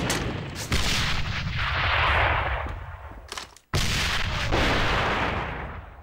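Heavy explosion bursts in a first-person shooter match, a deep roaring blast that swells and fades, then a second sharp blast after a brief near-silence, loud and close.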